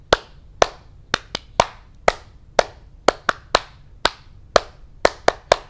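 A group claps along to a children's song about a family cat, about a dozen sharp claps at an uneven beat, each crisp and close with a short decay, alone with no voices.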